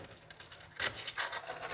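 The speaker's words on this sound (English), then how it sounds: "then you take the drill bit and you'll lay it out on there and scribe the center line" A drill bit drawn across 1/8 inch steel scribes a center line for a knife blank, giving a few short scratchy scrapes in quick bursts, close by and without speech.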